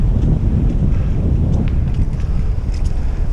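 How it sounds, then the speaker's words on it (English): Strong wind buffets a helmet-mounted camera while riding a horse into the wind through the woods, a loud, rumbling, continuous roar of blowback with no talk. "that is the wind kicking my behind"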